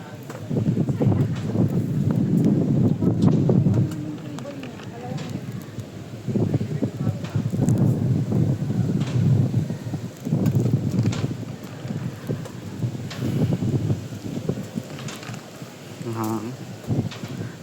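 Gusty wind buffets the microphone in heavy low rumbling bursts, coming and going, with people talking intermittently underneath.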